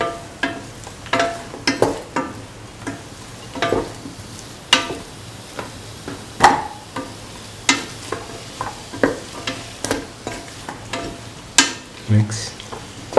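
Cauliflower and bottle gourd stew sautéing in a pan, with a low sizzle under repeated scraping and clanking of a spoon stirring at an irregular rhythm, close and clear.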